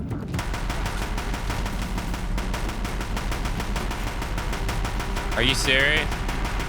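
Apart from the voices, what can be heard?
Deathbringer machines firing guns in Horizon Zero Dawn video game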